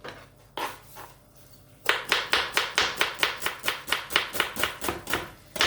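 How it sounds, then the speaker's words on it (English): Half an onion is sliced finely with a knife on a board, a steady run of crisp, evenly spaced chops after a couple of scattered first cuts, close and clear with no talking. "just slice up half an onion"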